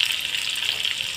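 Egg pakora sizzling in hot oil in a pan, a steady close bubbling hiss that holds evenly through the short stretch with no voices.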